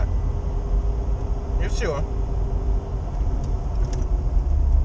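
A UAZ Patriot driving with a low, steady engine and road rumble filling the cabin, heard from inside, while someone speaks briefly over it.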